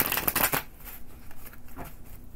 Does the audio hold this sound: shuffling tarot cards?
yes